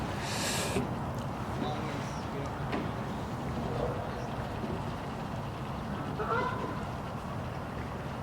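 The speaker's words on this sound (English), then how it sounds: "the wild geese that are flying around this morning. Hear them calling in the background" Distant geese honk intermittently across an outdoor background hum, while a person talks over it.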